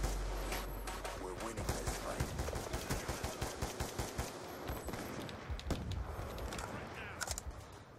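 An SMR rifle fires steady rapid bursts in Black Ops 2 multiplayer on the Express map, the sharp cracks repeating loud and close with brief pauses, while a player talks over the shooting.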